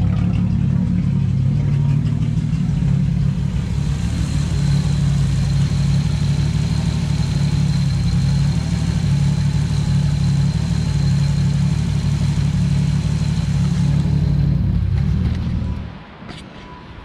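A Lexus IS300 engine idles steadily at close range, a low, even rumble that holds for about fifteen seconds before cutting off abruptly.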